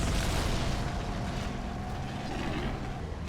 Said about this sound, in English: there's explosions, there is flying stuff, enemies attacking me with vehicles